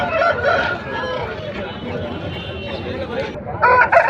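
A Kakiteka rooster crows at a livestock market in Rayachoti, Kadapa district, its call rising near the end over a steady background of crowd chatter and market noise.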